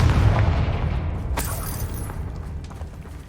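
A Confringo fire spell from the Hogwarts Legacy video game bursts into a loud, booming explosion, with a rumbling blast that decays slowly into a lingering low roar.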